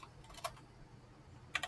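Typing on a computer keyboard while filling in a form: two short bursts of crisp key clicks, one early and one near the end, close and quiet with stillness between them.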